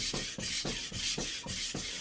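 A knife blade strokes back and forth on a Japanese whetstone in a regular rhythm, about eight close, gritty scrapes in quick succession with no talking.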